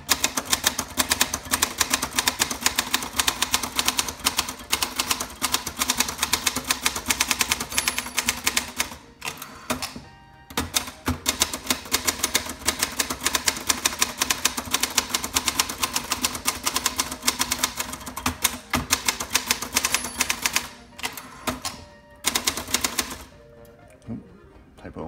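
A 1964 Olympia SF portable typewriter types in a fast, steady, close stream of crisp keystrikes, with a couple of short pauses, likely carriage returns, and no voices.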